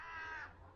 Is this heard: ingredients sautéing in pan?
no